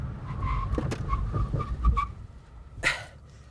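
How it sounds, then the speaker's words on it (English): A 4,847-pound Mercedes-Benz CL65 AMG brakes hard from 60 mph to a stop, with rushing road noise, tire scrubbing and skid sounds, and a sharp squealing burst near the end. "And now we do the 60 to 0 braking test."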